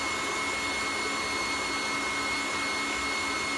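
An electric hand mixer whips cream to stiff peaks, giving a steady, loud, unbroken whirring drone with no break in rhythm and no voices over it.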